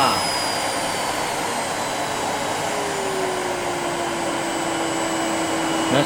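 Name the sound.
Miele S7510 upright vacuum cleaner running on automatic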